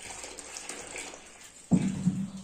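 Desi cow urine is poured into a Vedic plaster mix of ash and turmeric, a sudden close splashing stream that starts midway and keeps running after a quiet stretch.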